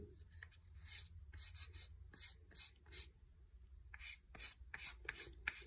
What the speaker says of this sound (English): sand it back.